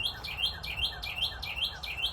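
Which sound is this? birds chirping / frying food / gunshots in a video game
birds chirping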